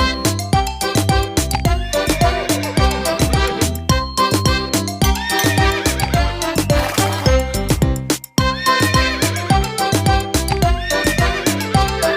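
Horse pulling a carriage gives repeated neighs and whinnies over steady music, with rhythmic clip-clop hoofbeats running throughout.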